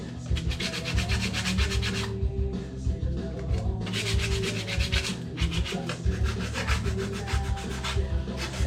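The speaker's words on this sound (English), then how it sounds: "we'll just scuff them up a bit. You don't want to get a glaze on these." Aluminum oxide sandpaper scuffs clutch parts from a 1976 Harley FLH, a close, steady rhythmic rubbing with strokes repeating in quick back-and-forth runs, heard alone.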